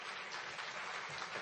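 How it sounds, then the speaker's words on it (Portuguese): An audience applauds a speaker at a public policy seminar, a steady wash of clapping from many hands that stays even and fairly faint for the whole stretch, with no voices on top. "Uma salva de palmas ao nosso palestrante."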